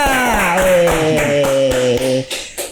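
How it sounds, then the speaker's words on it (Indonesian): A small group at a café in Garut claps in a quick, even rhythm of hand claps over background music, the claps thinning out toward the end. "tepuk tangan buat Kang Puja"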